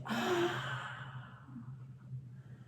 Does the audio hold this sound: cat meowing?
no